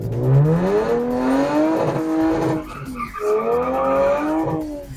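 A stock car with an automatic transmission and open differential drifts, its engine droning in rising and falling tones while the tires squeal loudly and close, with a brief dip midway before the howl resumes.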